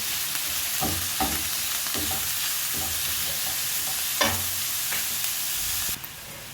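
Chopped onion with grated carrot and other vegetables frying in a pan, a steady close sizzle with occasional stirring scrapes over it, no talk.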